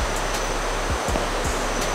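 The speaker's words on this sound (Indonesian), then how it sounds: "Ada sungai, ada poolnya." A river flows beside a sulfur pool in a forest, giving a steady, close wash of rushing water with no break and no voices.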